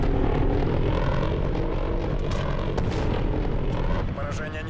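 A propeller airplane roars past in a video game, a loud, sustained engine drone filling the scene from start to finish with gameplay noise mixed in.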